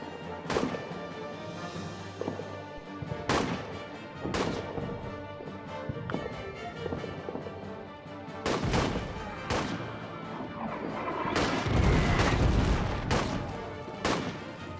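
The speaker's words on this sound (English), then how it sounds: "We're being shot at from the flank." Rifle shots and explosions crack out irregularly in the trench-warfare video game All Quiet in the Trenches, sharp loud reports over a constant battlefield rumble that swells toward the end.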